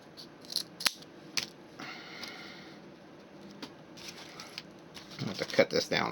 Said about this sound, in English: I have to cut this down a little bit more.